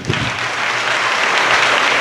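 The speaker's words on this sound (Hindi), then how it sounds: "ताली बजाएं परमेश्वर।" Congregation in a church service clapping together, a loud, dense wash of many hands applauding steadily throughout, filling the room.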